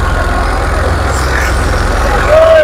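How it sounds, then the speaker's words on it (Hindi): Tractor engine driving a wheat thresher at full power on a farm, a loud, steady low rumble with a rapid throbbing pulse and machinery whine, continuous throughout with no talk. "ट्रैक्टर का फुल जोर लग रहा है।"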